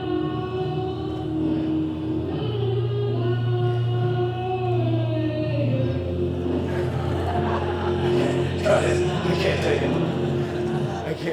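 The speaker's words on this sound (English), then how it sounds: "you can get an isolated sound of her microphone during that song" Isolated live vocal microphone track of a woman singing a song, a steady sustained voice with wavering held notes running throughout, fairly loud and close, with faint crowd and band bleed behind it.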